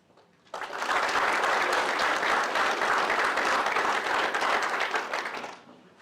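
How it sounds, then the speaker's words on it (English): Audience at a Southwest District FFA banquet in Tribune breaks into loud, sustained applause lasting about five seconds, starting abruptly and tapering off at the end. "Please give them a round of applause for their special efforts to be with us in Tribune tonight."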